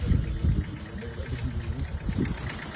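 A motorcycle engine idles nearby with a steady, low, rumbling putter and slight fluctuations.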